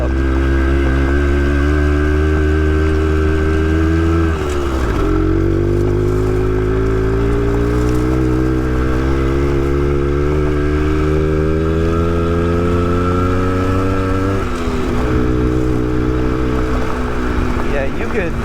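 An X-90 motorcycle engine runs steadily during a ride, a loud, close, droning note whose pitch rises smoothly between two quick dips as the throttle changes.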